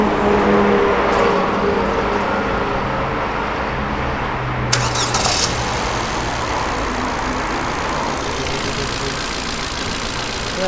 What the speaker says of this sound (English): now start the car, Jeff